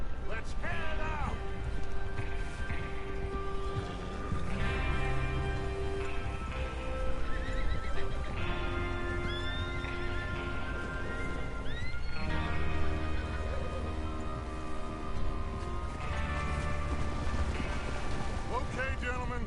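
Horses whinny and neigh repeatedly in Red Dead Redemption 2, with steady hoof clip-clops and game music underneath, several calls rising and falling at moderate level.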